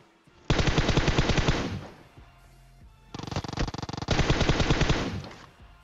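Two long bursts of M4 rifle fire in PUBG Mobile, loud and rapid, the first lasting over a second and the second running nearly two seconds after a brief pause, with no talk over them.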